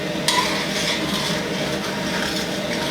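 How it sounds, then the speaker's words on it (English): Liquid hitting a hot pan gives a steady broadband sizzle with light stirring and a brief utensil clink near the start, close and continuous. "this is called deglazing your pan"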